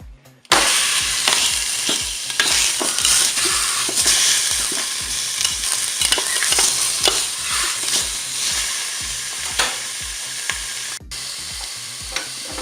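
A pork roast browns in the preheated pot of a Cookeo multicooker, loud, steady sizzling and spitting close by with a repeating low mechanical pulse underneath, starting abruptly after a brief silence.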